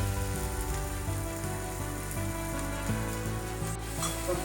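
Meat sizzles steadily in a pan as it is sautéed with spices and no water, a continuous close frying hiss with no pauses and no talking.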